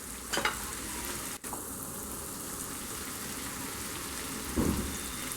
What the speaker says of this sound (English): While our onions are getting fried